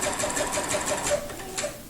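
A sewing machine stitches a quilt border in free-motion quilting, a steady, rapid mechanical chatter heard close up, continuous and without talking.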